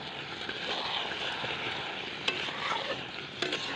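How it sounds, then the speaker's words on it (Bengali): Chicken sautés in a pan, a continuous close sizzle and frying hiss with occasional stirring clinks and scrapes, with no voices heard. "চিকেনটা কষা হচ্ছে"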